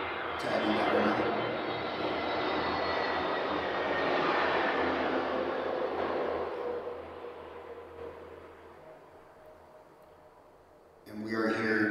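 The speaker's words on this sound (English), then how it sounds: "Airplane. Tagging that right now." Airplane flying overhead near a historic military fort at night, a loud broad jet roar swelling then slowly fading away over about ten seconds, with voices talking faintly beneath it.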